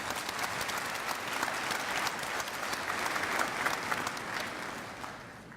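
At a university spring commencement, the crowd gives board members sustained applause, a dense field of clapping that swells slightly and then begins to fade at the end, heard from a moderate distance.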